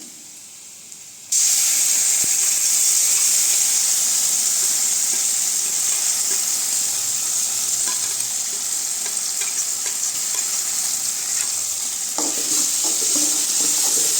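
Ground tomato-onion paste drops into a pan of sautéed onions for a radish curry, setting off a sudden loud hissing sizzle that holds steady and close, with light stirring clatter near the end.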